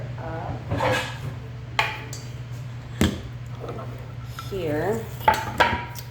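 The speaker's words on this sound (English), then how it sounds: "I'm gonna go ahead and cut this butter up." Cold butter being cut with a knife on a kitchen board for a homemade apple pie: a few sharp taps and scrapes spaced across the stretch, over a steady low hum, with a voice speaking briefly.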